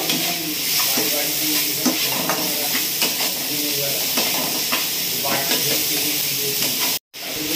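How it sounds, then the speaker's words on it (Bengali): Turmeric powder stirred into food frying in a pan, with a continuous loud sizzle and rhythmic scraping strokes of a spatula, cut by a brief silent gap near the end. "আর দিয়ে দেবো হলুদ গুঁড়ো, দিয়ে ভালো করে নেড়ে চেড়ে নেব"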